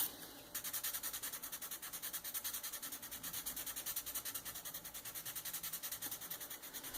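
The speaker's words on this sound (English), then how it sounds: "So I'll get to sanding on that." Rhythmic back-and-forth rubbing strokes of sandpaper on a wooden bark handle, quick and even, fairly quiet and close with no talking.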